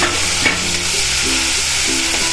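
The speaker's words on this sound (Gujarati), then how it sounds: "પછી નાખીશું એક ટામેટું સુધારેલું છે." Chopped tomato sizzling loudly in hot oil with hing and ginger-chili paste in a pan, stirred with a spoon scraping through the steady close frying hiss.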